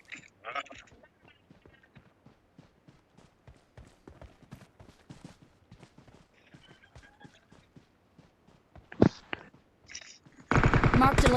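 PUBG Mobile gunfire rattles off as rapid single shots and short bursts, mostly moderate in level with a louder spike near the end. A dense, sustained volley closes the clip, and voices come through in places.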